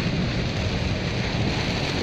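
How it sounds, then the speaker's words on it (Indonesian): Rain drums as a dense, steady broadband hiss against an automatic car while it drives during a beginner driving lesson, continuous and close with no pauses. "Masih hujan."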